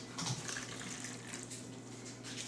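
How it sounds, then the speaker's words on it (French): Boiling water poured into jello powder in a kitchen, a steady continuous trickle and splash at close range with no talking. "Ensuite, on rajoute l'eau bouillante."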